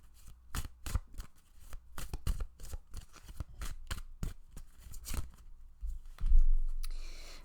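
Tarot cards being shuffled and drawn from the deck: a rapid run of crisp riffling flicks and slaps, close and fairly quiet, ending in a softer sliding rustle.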